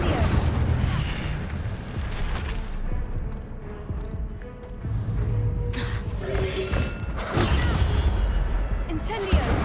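Fiery spell blasts from the Incendio charm in the Hogwarts Legacy game, heavy booming bursts and whooshing rumble filling the scene, loud and dense with a few surges, under scattered game voices.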